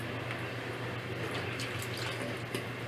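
Water is poured into a bowl of homemade play dough mixture, a steady close trickle and splash with a light bubbling texture, heard alone without talk.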